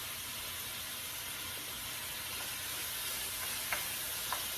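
Beef tips sizzle steadily in a pan while being stirred for beef tips and rice, a constant close hiss with a couple of faint scraping clicks near the end and no talking.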